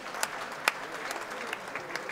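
Crowd clapping for a performer leaving the stage at a Nigerian comedy show in Lagos, a faint, scattered patter with a few sharper individual claps standing out.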